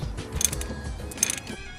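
A ratchet loosens the bolts on the lower damper fork of a 1988–1991 Honda Civic during a coilover install, giving short bursts of mechanical clicking and clanking close by, with no talking.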